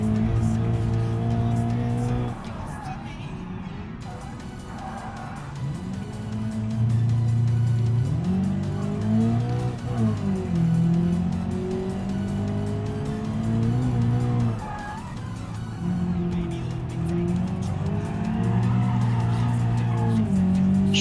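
A car slides and drifts in the BeamNG driving game, its engine droning loud and steady as tires squeal through long skids, pitch rising and falling with the revs.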